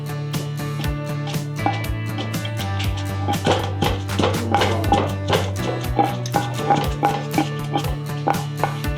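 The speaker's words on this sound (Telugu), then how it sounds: "పుదీనా, కొత్తిమీర మనం ఆయిల్లో ఫ్రై చేసుకున్నాం కదా, ఇది కూడా వేసేసుకోవాలి. ఇది కూడా ఒక పట్టు పడదాం, దంచుదాం." Oil-fried mint and coriander are pounded by hand for pudina karam, a run of dull, rhythmic thuds close by over a steady tonal hum in the background.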